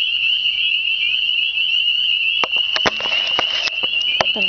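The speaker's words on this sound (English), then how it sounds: "These are spring peepers, and I don't know what else." Spring peeper frogs calling in a spring chorus, a continuous high-pitched peeping with several sharp nearby clicks and chirps breaking in over the second half.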